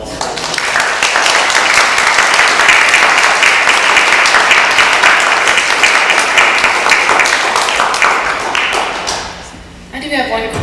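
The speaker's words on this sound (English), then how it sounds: "why don't we give them a round of applause?" An audience at a panel discussion on court-ordered school integration gives sustained applause for about nine seconds, loud and even, tapering off as a voice begins to speak.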